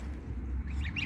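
Geese and goslings calling while drinking water, a few short honking calls and higher peeps at close range over a low background rumble, with no speech.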